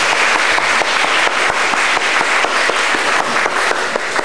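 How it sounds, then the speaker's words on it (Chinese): A hall audience applauds lecturer Wu after his talk at a gathering, dense and loud clapping from many hands that holds steady throughout. "那让我们再一次以热烈掌声感谢吴讲师为我们做精彩的演说。"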